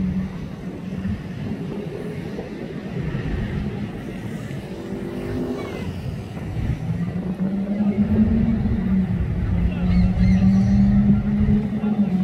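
A McLaren supercar driving past on the streets of Monaco, its engine note swelling from a low rumble to a louder, nearer roar amid street ambience, with faint voices nearby.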